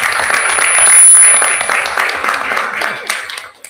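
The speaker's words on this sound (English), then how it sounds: "let's give them a big round of applause for just doing amazing things for kids" Applause at a school board of education meeting for social workers, a fairly loud spread of clapping that swells and then tapers off toward the end, with some voices mixed in.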